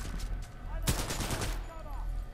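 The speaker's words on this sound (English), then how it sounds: "Fully automatic shotgun is not what I wanted." Fully automatic shotgun firing in the video game Titanfall 2, a single sharp blast with a burst of rapid follow-up shots over game background noise.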